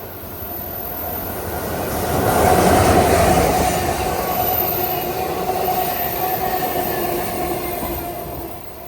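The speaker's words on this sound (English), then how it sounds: "Amtrak Cascades." An Amtrak Cascades passenger train rolls past near a beach, its steady rumbling roar and wheel noise swelling to a peak and then holding at a sustained loud level, with no talk.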